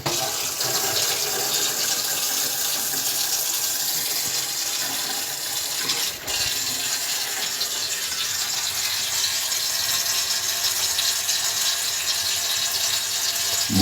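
Water runs steadily through a newly installed double-housing cartridge water filter in a workshop, a continuous broadband hiss and rush holding level for the whole stretch, with a brief dip midway and no voices.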